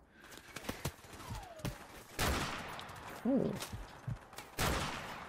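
Gunfire in the shooter game Call of Duty: Modern Warfare Remastered, several sharp shots and bursts spread across the moment with a short whizzing sweep, against background battle noise and a brief voice.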